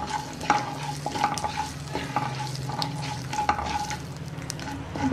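Mustard seeds fry in hot oil with asafoetida and turmeric for a ginger garlic pickle, giving a quiet, steady sizzle. A utensil stirs and scrapes the pan with repeated light clinks.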